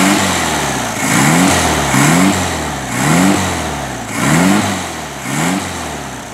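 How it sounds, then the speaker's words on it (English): A 1971 Volkswagen Super Beetle convertible's air-cooled engine revs repeatedly through a loud aftermarket exhaust, about five rising bursts settling back to a rough idle between them. No talking. "I much prefer the sound of this exhaust over the stock exhaust system."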